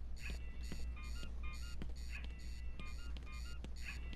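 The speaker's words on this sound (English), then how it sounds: "Boy, that alarm is annoying," An alarm blares in Batman: Arkham Asylum, repeating a rhythmic pattern of electronic beeping tones over a low, constant hum, steady and moderately loud throughout.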